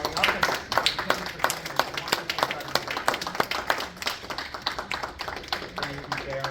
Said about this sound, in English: let's give a round of applause for you all for showing up